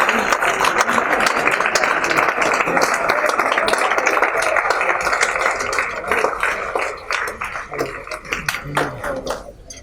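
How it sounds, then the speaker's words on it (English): A large audience at Chandigarh University applauds as film director Abhishek Dudhaiya is welcomed onto the stage. The clapping is dense and steady, with crowd voices mixed in, then it thins out and fades near the end. "So please, give a huge round of applause"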